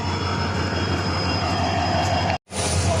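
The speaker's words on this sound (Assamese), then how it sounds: "এইখনে হ'ল আমাৰ ট্ৰেইন এইখনত উঠি আমি যাম" A passenger train in Assam gives a loud, steady rolling roar with a faint whine, broken by a brief cut near the end before resuming.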